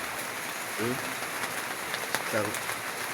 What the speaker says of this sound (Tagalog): ulan yun mga ka-idol.